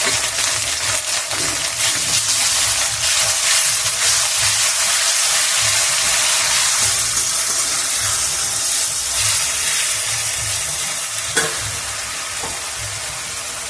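A paste of ginger, onion and garlic hits hot oil in a pan, giving a loud, close, continuous sizzle and hiss with occasional stirring scrapes, slowly easing off toward the end.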